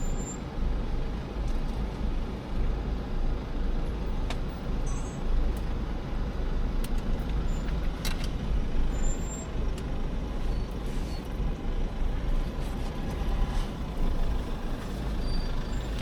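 Traffic on a safari road crowded with cars around a leopard: a steady rumble of idling and moving vehicles throughout, with faint brief clicks and squeaks on top and no speech.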